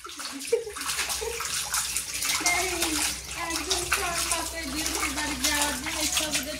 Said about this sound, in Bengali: কত সুন্দর করে মাছগুলো ধুতেছে